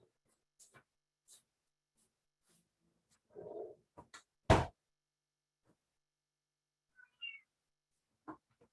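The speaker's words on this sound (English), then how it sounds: "My cat, if you can't hear the meows." A pet cat meows in the background of a home kitchen during a cooking demo, a few short faint calls scattered among other small sounds, with one louder, longer meow in the middle.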